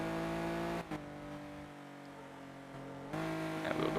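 A Porsche racing car in the Need For Speed Porsche Unleashed game on the Monte Carlo stage, with a harmonic engine drone that eases off while lifting, then surges back under power, and no talking.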